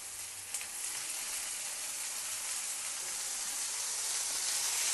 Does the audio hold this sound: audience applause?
no